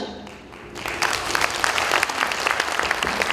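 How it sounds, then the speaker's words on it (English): Applause at a business forum swells in after a brief quiet lull, then continues as dense, sustained clapping from a large audience for the rest of the moment. "let's give Jessica and Rohit a big hand of applause"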